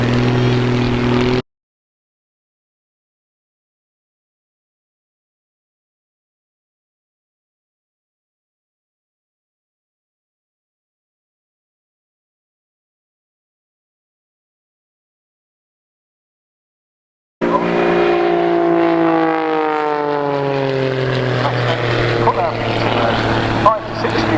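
At the Bournemouth Air Festival 2022, a propeller plane's engine drones loudly, its pitch sweeping downward as it passes; a long stretch of silence separates two bursts of engine noise.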